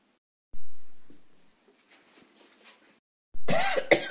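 Two separate human coughs, one near the start and a sharper, louder one at the end, with a quiet stretch between them in an indoor room.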